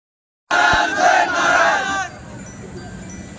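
A large crowd of students roars and cheers together in a loud, sustained burst of shouting, then drops to a lower murmur of chatter.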